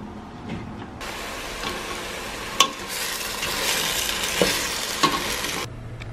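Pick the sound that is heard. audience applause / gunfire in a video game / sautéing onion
sautéing onion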